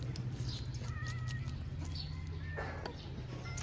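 A cat meows several times, thin drawn-out cries, not loud, over a constant rural background hum with faint clucking poultry and distant voices.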